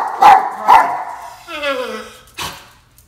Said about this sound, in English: hopefully prevent him from barking?